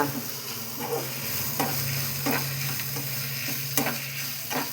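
Chopped radish fries in hot oil in a pan for radish sambar, giving a steady close sizzle broken by several scraping stirs at irregular intervals, with no talking.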